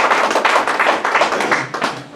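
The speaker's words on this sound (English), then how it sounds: "let's give him a big applause." Audience applause following a talk on self-supervised speech representation learning, a steady dense patter of clapping hands sustained throughout, fairly loud and close with no talking over it.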